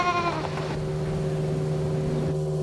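A single goat gives a short, wavering bleat, followed by a steady low mechanical hum.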